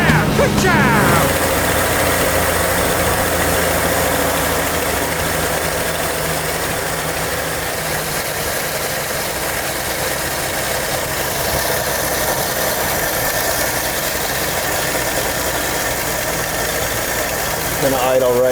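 A vintage Hudson Hornet engine idles close by with a steady, slightly uneven mechanical rumble lasting the whole stretch, and brief voices come in at the start and end.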